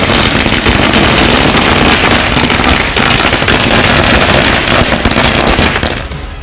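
Firecrackers bursting in a dense, continuous crackle at a DMK and Congress alliance election victory celebration after the Erode East bypoll, loud and close throughout, fading slightly at the end.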